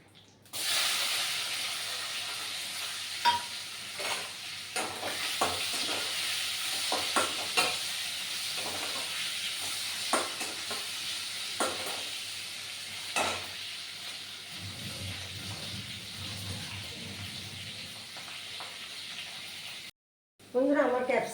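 Capsicum seasoned with salt and turmeric frying in a pan, giving a continuous close hissing sizzle with frequent clacks and scrapes of a spatula stirring throughout, ending in a brief silence and a final burst.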